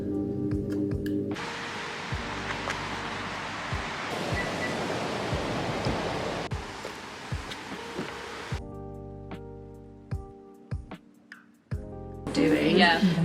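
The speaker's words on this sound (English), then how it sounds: "I'm gonna hop in the shower now" Shower water runs in a steady broadband hiss for several seconds, loud and close, then cuts off, followed by quieter knocks and movement and a final short burst of spray.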